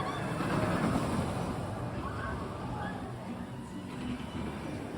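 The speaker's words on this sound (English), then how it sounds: "Oh, here goes the train again." An amusement park train rumbles past at Cedar Point, a steady nearby clatter and hum running through the whole stretch, with a voice speaking briefly over it.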